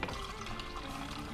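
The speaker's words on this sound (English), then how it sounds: "we've got some sanitizer flowing out of our first tap" Sanitizer gushes from a Keg King kegerator tap into a pot, a steady broadband hissing splash that stays even and close for its brief length with no pauses.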